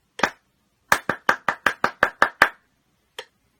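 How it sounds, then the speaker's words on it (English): Hands clap a four-sixteenth-note rhythm: one opening clap, then a quick even run of eight crisp, close claps, and a single clap after a pause. "I said the words in my head so that you can hear the clap better."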